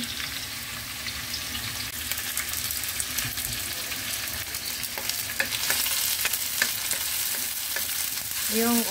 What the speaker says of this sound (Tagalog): Sinusuti na natin yung garlic.